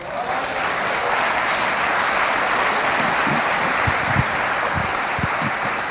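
A church congregation applauding, dense sustained clapping filling the room at an even level for several seconds, with a few louder claps standing out.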